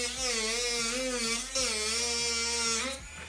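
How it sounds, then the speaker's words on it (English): A handheld rotary tool cuts through costume material for a Boba Fett helmet, giving a close, loud high-pitched whine that dips in pitch as it bites and then recovers across a few passes. "Now I'm gonna be using a rotary tool"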